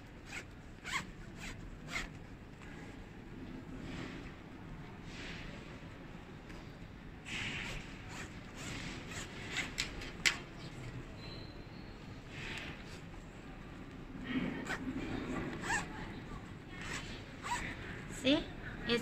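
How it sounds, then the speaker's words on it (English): A medium zipper bag is repeatedly zipped open and shut, producing rapid ratcheting zips close by, some strokes louder than others, spread across a stretch of handling noise. "you can install the zipper to be"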